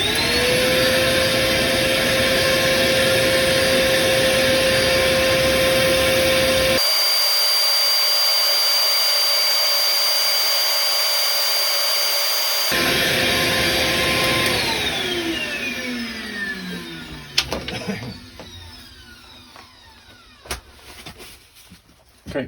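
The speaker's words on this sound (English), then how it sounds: "I think I'll do the first bit of sanding without taking that little nub away." Boxwood bottle opener sanded on a spinning wood lathe, a steady loud motor whine with sanding friction running for long stretches, briefly cut out midway, then the lathe winds down and stops with a few knocks.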